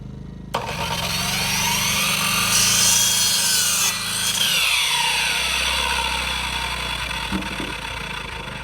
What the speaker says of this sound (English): You hear the lag in the saw From the generator?